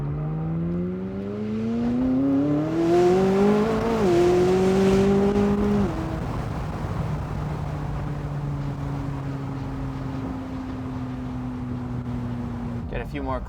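Exhaust of a McLaren 600LT on a road drive, rising in pitch as it revs through the gears, then easing off into a steady lower drone; one or two faint crackles near the end, with a person talking over part of it.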